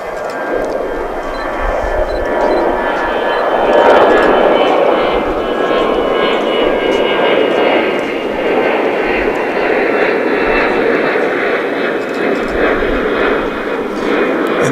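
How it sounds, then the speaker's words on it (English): A Qantas Boeing 787-9 Dreamliner lands at DFW after the long flight from Sydney, its engines a sustained loud jet rumble that peaks midway and stays strong, with muffled voices faintly beneath. "You've got another heavy coming in now. This is going to be Qantas Flight 7 from Sydney, down under."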